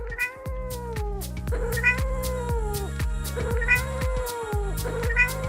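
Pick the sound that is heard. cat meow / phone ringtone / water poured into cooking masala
cat meow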